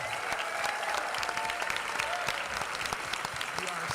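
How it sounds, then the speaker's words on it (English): A crowd at a school board meeting honoring Teachers of the Year applauds with sharp, scattered claps and some cheering, a lively, sustained round that fills the room. "Let's look around and give everybody a good Township cheer."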